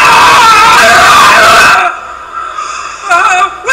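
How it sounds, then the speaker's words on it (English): A boy in a stage show screams loudly on waking up, one long strained cry lasting nearly two seconds, followed by quieter voices and a brief second outburst. "Emerson Jr. wakes up and screams."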